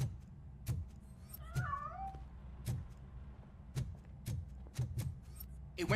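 A cat in the video game Robocop: Rogue City gives a couple of quick rising meows as it escapes, amid a series of sharp thuds and clatters spaced through the moment.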